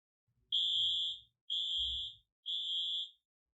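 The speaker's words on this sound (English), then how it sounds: "The fire alarm rings." Fire alarm in a LEGO City animated scene rings in three loud, even electronic bursts, each about three-quarters of a second long with short gaps between, over a faint low rumble.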